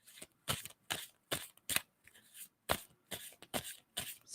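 Tarot cards are shuffled by hand in a repeated series of crisp riffling bursts, each a short papery rush with brief pauses between, fairly close and quiet, with no voices.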